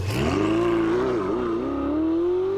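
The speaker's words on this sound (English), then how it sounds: "I love the sound of a twin-turbo V8 roaring from behind me" The twin-turbo V8 engine of a 2016 Ferrari 488 GTB roars and climbs steadily in pitch as it accelerates, loud and continuous, close by.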